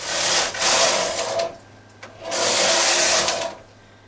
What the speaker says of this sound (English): I'm going to knit two rows.